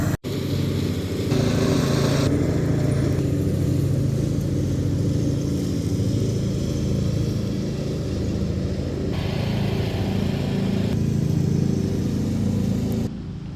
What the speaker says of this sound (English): my neighbor is mowing